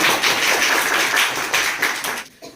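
Audience clapping in applause for a student winning a Sir C.V. Raman science quiz competition in Uttar Pradesh, a steady burst of many hands that fades out near the end.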